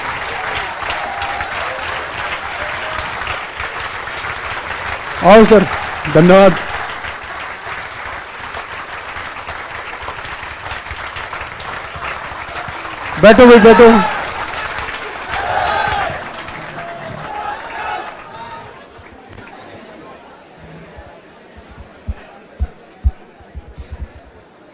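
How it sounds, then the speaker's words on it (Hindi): Applause from a classroom audience of students greeting a teacher at a coaching class, broad steady clapping running through most of the stretch with short bursts of speech over it, fading out toward the end. "जोरदार तालियां होनी चाहिए।"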